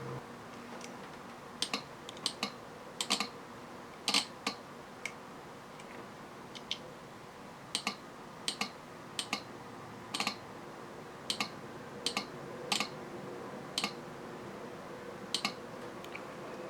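A starter solenoid from a 2002 Isuzu Trooper 2WD clicking as it is energized on the bench, about two dozen sharp, faint clicks at irregular intervals over a quiet background hum.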